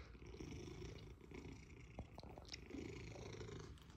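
A large cat purring steadily up close, a continuous low rumbling drone that stays faint and even for the whole stretch.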